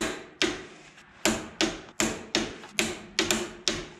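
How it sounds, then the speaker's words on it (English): A torque wrench tightening ring gear bolts to 110 foot-pounds on a BMW E36 3.73 differential. About nine sharp, close metallic clicks come at uneven intervals, each followed by a short ringing decay, with no talking. "Once it's seated, I pull the bolts back out, dab a Loctite right back in, and then we're gonna torque them."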